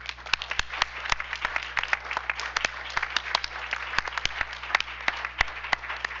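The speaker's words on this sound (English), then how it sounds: "So we want to give them a round of applause." Applause for award recipients at a school district board meeting, a modest group clapping steadily with scattered sharp individual claps over a faint electrical hum, fairly close.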